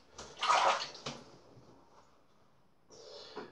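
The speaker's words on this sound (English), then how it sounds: "I'm just going to put a few drops of water on there and let that sit" Water drops splash onto shaving soap in a lather bowl, a short wet burst with a second fainter splash and a quiet trickle near the end, close and alone.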